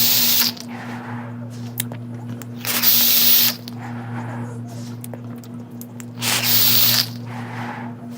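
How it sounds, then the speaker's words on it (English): A Royal Hunter X atomizer with single airflow, dual coils, drawn on in repeated close, breathy pulls, with a steady low hum under the inhales and short gaps between them. "I'm going to see how it vapes with only single airflow"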